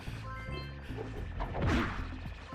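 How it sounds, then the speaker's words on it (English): Several wooden crates smashed at the same moment in Jak and Daxter: The Precursor Legacy, their breaking sounds stacking into one loud crash that peaks mid-clip over rhythmic game music. "when you see a group of boxes and you break all of them at the same time"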